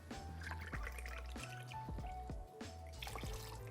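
Coconut water is poured and trickles into a rum cocktail in short splashy bursts, close and fairly quiet, with small drips in between.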